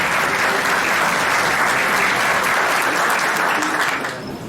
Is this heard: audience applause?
yes